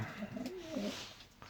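Soft, low cooing of pigeons nearby, a few rolling coos in a short burst against faint background noise.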